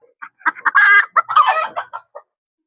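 Chickens cluck close by in a quick burst of clucks and squawks, rising briefly into a louder cackle before trailing off.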